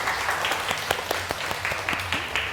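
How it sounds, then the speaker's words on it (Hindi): A television studio audience breaks into applause, a steady patter of many hands clapping with some voices murmuring underneath. "वाह, तालियां नहीं हो चाहिए सना के लिए, है ना?"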